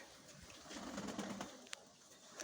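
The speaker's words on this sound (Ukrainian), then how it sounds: "О, красивий голубь." Pigeons, including an old ornamental breed with yellow wings, murmur softly in a loft in Chornobaivka near Mykolaiv. Faint low cooing runs throughout with a few brief sharper sounds and light flutters, and nobody speaks.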